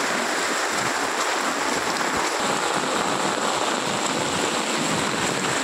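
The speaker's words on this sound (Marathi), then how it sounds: "आता पाऊस एवढा लागता कामा नाही, पण आता भरपूर लागतो आहे" Heavy downpour during a cloudburst flood in Kankavli, a dense, steady roar of rain pounding surfaces and running water over a flooded road and farmland, loud and continuous throughout with no voices.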